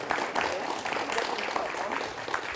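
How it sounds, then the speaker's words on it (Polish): Applause from the audience at a press conference held by a fencing foundation fills the room as a steady, dense wash of clapping for about two and a half seconds, at even volume throughout. "Gromkie brawa dla pani Sylwii."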